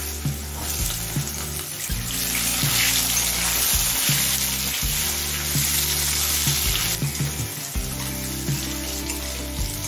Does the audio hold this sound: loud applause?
no